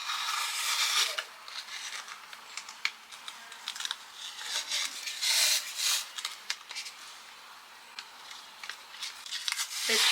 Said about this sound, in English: to keep it in place, I'm going to use tape